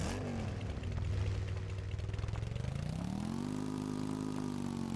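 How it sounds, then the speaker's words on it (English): Motorcycle engine in the video game Empyrion, a steady mid-pitched drone that rises in pitch partway through as the bike accelerates, loud and continuous with no talking. "I'm on a motorcycle."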